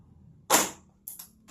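A pellet gun fires one sharp, loud crack during a chronograph FPS check, decaying quickly, followed about half a second later by two quick, crisp mechanical clicks.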